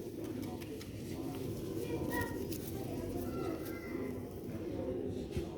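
Sialkoti lal moti pigeons cooing softly under a steady backdrop of background noise and a voice talking.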